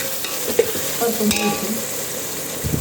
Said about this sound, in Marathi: तर याच्यामध्ये आपल्याला हळद टाकायची हळद